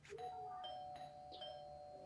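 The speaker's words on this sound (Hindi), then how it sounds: "ये घंटी की आवाज मैं बर्दाश्त नहीं कर सकता" A doorbell rings in a two-tone chime with a couple of quick repeated dings. It sounds moderately near and clear against a quiet room.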